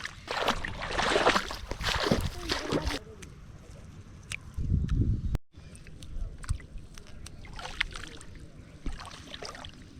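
Water sloshing and splashing as greens are picked by hand in a flooded field, with irregular bursts of movement through the water, brief knocks and a quiet rural outdoor background.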